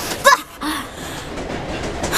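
Train riding along the rails in the Boruto anime, a steady rumbling ride noise with a brief louder burst near the start, continuous and moderately close.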